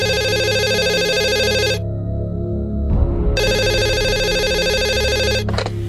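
A telephone rings in two long electronic bursts separated by a brief pause, loud and close, with a short click as the second ring cuts off.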